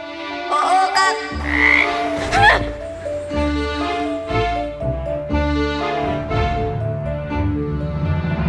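A voice imitates a frog, making repeated throaty croaks over a steady musical background, with other voices talking in between.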